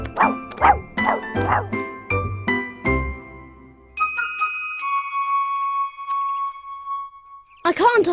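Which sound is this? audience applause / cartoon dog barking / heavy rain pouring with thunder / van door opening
cartoon dog barking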